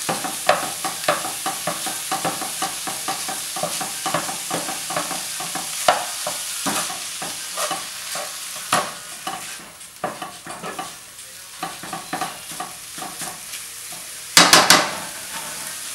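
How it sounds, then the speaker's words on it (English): Ground meat for stuffed peppers frying in a pan, broken up with a utensil as it cooks: steady close sizzle with repeated scraping and stirring knocks, a burst of clatter near the end. "When you put your meat in there, you're going to want to break it up. Even while it's cooking"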